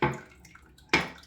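Pre-shave liquid is poured into a bathroom sink in two brief splashy gushes, close by and fairly loud, with a short pause between them.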